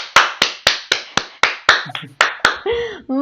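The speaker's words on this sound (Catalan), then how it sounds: "Un fort aplaudiment, sisplau!" Sharp, evenly spaced claps ring out close by, about ten in a row, with a short burst of voices and a higher vocal sound cutting in near the end, at a televised Catalan Hogwarts-house quiz show.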